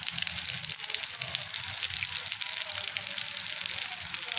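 Potato and egg kababs fry in hot ghee, a steady close sizzle and crackle filling the whole stretch without letting up, with faint clatter underneath and no talk.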